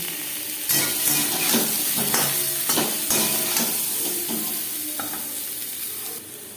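Potatoes fry with salt and turmeric in a loud, continuous sizzle, with repeated scraping and clinking as a utensil stirs them in the pan.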